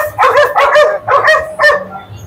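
Dogs at an outdoor pet market bark close and loud, four quick yapping bursts in a row with faint crowd noise beneath.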